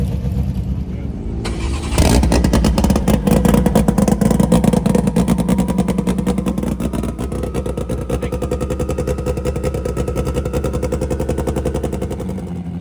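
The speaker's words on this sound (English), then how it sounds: "hot rod over there being warmed up" A hot rod engine warms up at Alaska Raceway Park, a loud, steady lopey idle with rapid rhythmic firing pulses after it catches, continuous and close, with some talk in the background.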